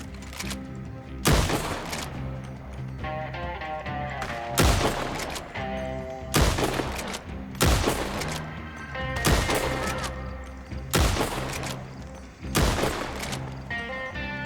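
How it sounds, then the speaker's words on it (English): Gunfire in the Red Dead Online video game, with about six loud bursts of shots spaced a couple of seconds apart over a steady background of game sound and music, heard near and without talk. "She's shooting at somebody."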